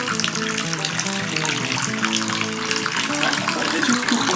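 Water pours steadily from a tap into a tub for a monkey possum's bath, a continuous close splashing rush with no talking.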